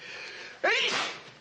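A single sharp sneeze bursts out at close range in a quiet indoor room, rising quickly and fading within about half a second.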